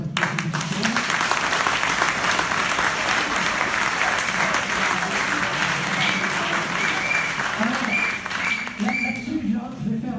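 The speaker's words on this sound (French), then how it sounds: "Donc je pense que déjà on peut l'applaudir parce que c'est difficile" An audience applauds at a yellow-vest (gilet jaune) meeting, with dense, sustained clapping filling the room for the whole stretch while voices murmur underneath.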